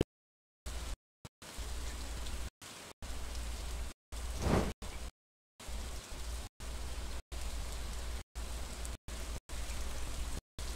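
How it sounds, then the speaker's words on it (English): Steady rain falls in the farming video game Stardew Valley, a dense hiss of drops that cuts in and out in repeated short bursts separated by brief silent gaps, with no voices. "I don't mind living in the rain, spending time in the rain, but come on."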